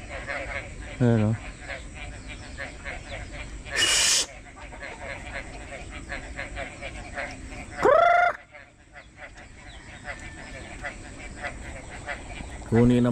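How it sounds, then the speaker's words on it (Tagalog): Frogs croak in short bursts near a rain-filled fish pond, with a rooster crowing a few times through the steady wet background and a voice talking now and then. "Ayan, mga palaka humuni na."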